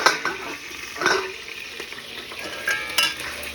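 Chicken pieces sizzle and fry in a pan, with a steady close crackle under sharp clinks and scrapes as the pieces are stirred and turned.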